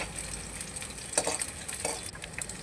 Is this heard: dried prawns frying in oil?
yes